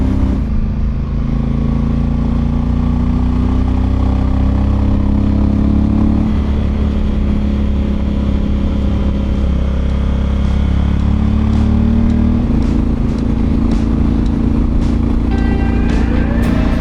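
A motorcycle rides a winding mountain road in Bolivia, its engine droning loud and close throughout, with the pitch rising and falling through gear changes and throttle shifts, accompanied by wind and rattling.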